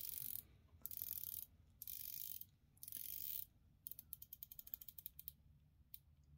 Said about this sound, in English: let's give the bezel a little listen